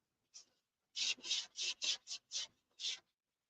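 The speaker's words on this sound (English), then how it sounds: "you'll notice I'm sanding left-handed" Hand sanding of a doped model airplane surface, heard as a quick run of about eight short, close, raspy strokes in an uneven rhythm, quiet and without any talking.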